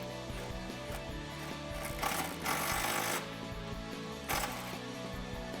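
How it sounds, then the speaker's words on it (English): Tools tightening a factory exhaust bracket on the isolator under a 2008-2014 Dodge Challenger 5.7L HEMI, heard as a steady metallic rattling and whirring with periodic clicks and a couple of brief louder surges, fairly quiet throughout, no talk. "at this point we can bolt up that factory bracket on the isolator"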